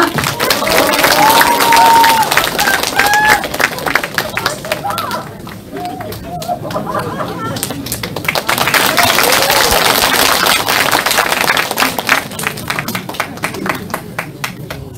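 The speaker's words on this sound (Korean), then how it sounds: "여러분 뜨거운 박수 부탁드립니다." A crowd at a political party book launch event applauds warmly and steadily for a congratulatory speaker, with voices and cheering mixed into the clapping throughout.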